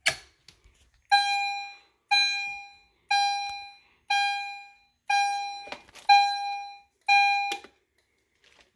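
A fire alarm chime strobe sounds during a small system test, a Wheelock unit on a 2151 detector setup: seven evenly spaced bright electronic chime tones about once per second, clear and fairly quiet, with no talking.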